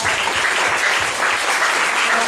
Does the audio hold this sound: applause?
yes